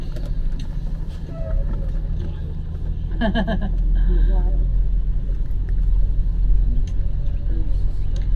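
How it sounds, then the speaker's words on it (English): A bus rumbles up a hill on a Denali National Park road, its low engine growl building as it approaches, under a voice speaking and occasional clicks from inside the tour vehicle. "I'm going to yield for this bus that's coming up the hill"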